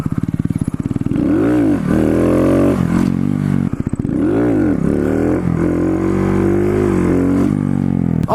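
Honda Grom motorcycle with an adjustable subcage revving hard through a wheelie, the engine note climbing and dipping in repeated loud surges close by, with brief clattering between the revs.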